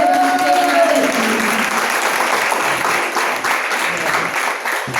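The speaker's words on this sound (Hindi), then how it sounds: "जरा भरपूर तालियां बजाइएगा।" A church congregation breaks into full, dense applause that holds steady and loud from start to finish, with a voice briefly rising above the clapping near the beginning.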